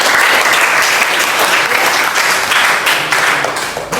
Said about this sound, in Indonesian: Beri aplaus dari untuk kelompok 5